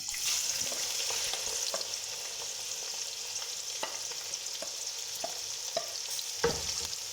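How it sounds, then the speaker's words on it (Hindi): Finely chopped onions frying in ghee toward golden brown give a steady, hissing sizzle with a few faint clicks of stirring, close but fairly quiet, with no speech. "प्याज को गोल्डन फ्राई होने तक फ्राई करेंगे।"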